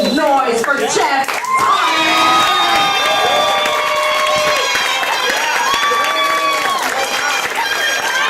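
A comedy club audience roars with cheers, whoops and steady clapping as a stand-up comic is brought to the stage, a loud, dense crowd sound that stays at full level throughout.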